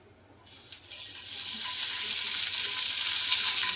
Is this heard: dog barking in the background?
no